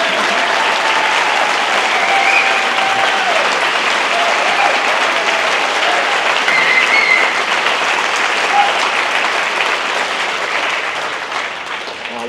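A large audience applauds steadily at a political talk by Ron Paul, a dense, loud wash of clapping that holds for about twelve seconds before thinning slightly at the end.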